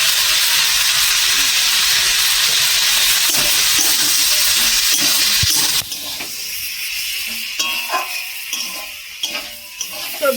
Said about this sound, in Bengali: একসাথে ভেজে নেবো ভালো করে